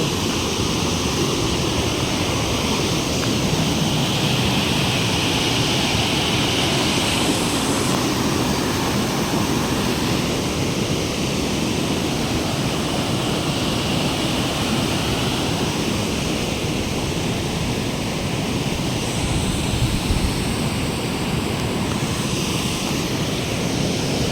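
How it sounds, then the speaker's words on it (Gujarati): Water pours steadily through Dantiwada dam in a constant, dense rushing roar that holds unchanged throughout with no voices over it. "પાણી ચાલી રહ્યું છે મિત્રો લાઈવ એરિયામાં જોઈ શકો છો"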